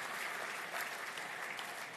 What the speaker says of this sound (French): applaudissez mes chers amis, ceux qui n'ont pas pu entrer dans cette salle